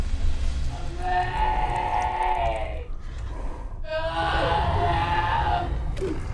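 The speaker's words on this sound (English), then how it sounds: "And then the bear starts screaming like the girl." A mutated bear from the film Annihilation lets out long, wavering human-like screams, two drawn-out cries split by a short gap, loud and harsh over a rumbling background.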